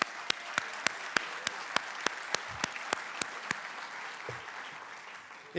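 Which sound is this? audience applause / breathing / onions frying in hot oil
audience applause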